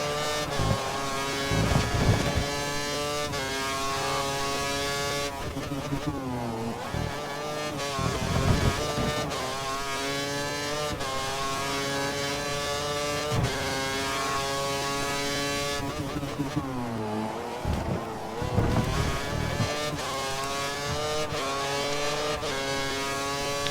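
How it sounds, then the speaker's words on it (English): Formula 1 car engines screaming at high revs in the video game F1 2013, a sustained loud whine that rises and drops through gear changes, with no talk over it. "We think the car behind is running on full revs."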